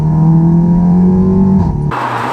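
An Audi TTS Mk2 engine drones loudly at steady revs with a deep exhaust tone, then the pitch shifts and drops as the throttle changes, close by.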